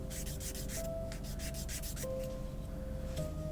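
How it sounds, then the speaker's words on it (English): A nail file rubbing across fingernails during a manicure, a close, quiet rhythmic scraping in quick repeated strokes, steady throughout with no talking. "you got to do some maintenance filing"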